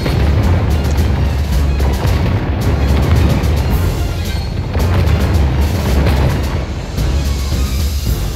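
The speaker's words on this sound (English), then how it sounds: "Some of my cavalrymen are able to fire now." Cavalrymen fire guns in a Medieval II Total War: Kingdoms battle, a loud, dense rumble of booming shots and crackling gunfire that continues throughout over a thick battlefield din.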